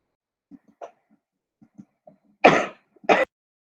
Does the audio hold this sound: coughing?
yes